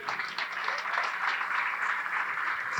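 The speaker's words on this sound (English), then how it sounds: "How about another round of applause for the staff here at Old Hickory?" Applause from a large crowd at a golf association awards dinner, a steady, even wash of clapping held throughout at moderate volume.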